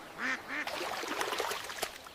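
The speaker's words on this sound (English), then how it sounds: "the ugly duckling woke up to the sound of loud quacking." Several wild ducks quack loudly and close by, two clear quacks opening the sequence before a busier stretch of overlapping calls and flock noise continues to the end.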